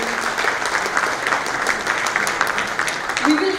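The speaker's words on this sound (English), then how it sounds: "I would like to request you all to give it a round of applause for him." Audience at a cybersecurity summit applauding a keynote speaker, dense steady clapping from a crowd in a hall, with voices faintly underneath.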